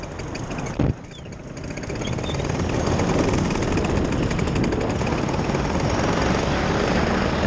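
A paramotor engine restarts in flight after a pull on the starter: a short sharp knock, then the engine catches and builds to a loud, steady, close droning roar that continues to the end.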